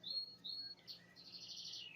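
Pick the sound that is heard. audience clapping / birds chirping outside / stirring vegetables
birds chirping outside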